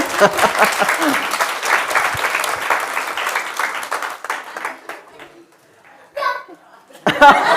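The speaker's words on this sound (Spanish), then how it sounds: "Sí, vamos a dar aplauso." Applause from a children's seminar audience, scattered clapping mixed with kids' chatter and some laughter, fading to near quiet before brief bursts of voices and clapping return.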